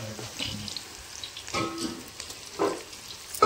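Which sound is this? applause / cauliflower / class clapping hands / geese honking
cauliflower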